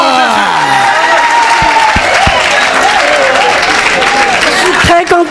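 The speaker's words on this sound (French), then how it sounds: "Acclamez pour Jésus." A church congregation applauds and cheers for Jesus, loud sustained clapping with whoops and crowd voices, and a voice rising over the noise near the end.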